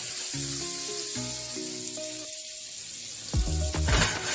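Canola oil and butter sizzle in a hot pan with a steady, close hiss, while tonal background sounds run alongside and a louder burst of crackle comes near the end.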